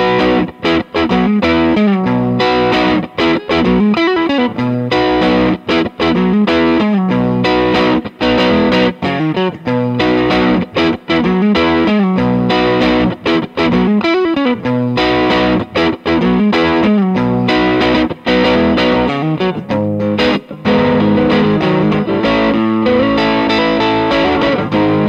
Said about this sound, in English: starting with the neck pickup for some kind of bluesy sounds like this.